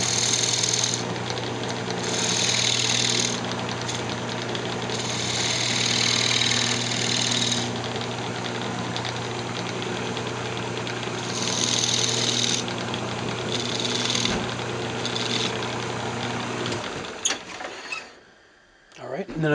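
Steady mechanical whirring of a lathe running throughout with bursts of scraping as decorative grooves are cut into the face of a wooden Christmas ornament, then the machine winds down near the end.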